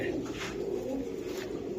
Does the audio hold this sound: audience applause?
no